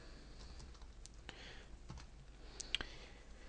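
Keys tapped on a computer keyboard while entering code in an editor, a few scattered soft clicks and one sharper burst near the end, faint and close with no voices.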